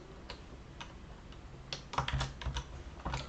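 Python code is typed on a computer keyboard in quick, uneven bursts of close, crisp key clicks that grow busier toward the end.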